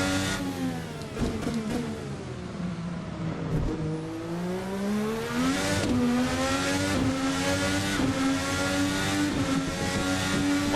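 A Formula car engine in the VRC Formula NA 2018 racing game revs loud and steady throughout, pitch climbing and falling with throttle changes mid-corner, with a brief dip near the middle before winding back up.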